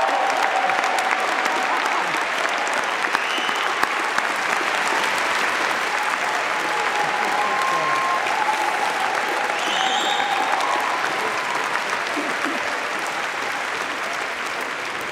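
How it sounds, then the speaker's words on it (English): Sustained applause from a large audience at an engineering graduation ceremony, a dense steady patter of many hands clapping throughout, with a few faint voices underneath. "Please join me in a round of applause for the graduates."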